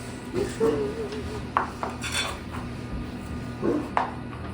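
Metal utensil scraping and clinking against a pan to free food stuck fast to it, a few short rasping strokes and knocks close by, with a brief voice or two in the background.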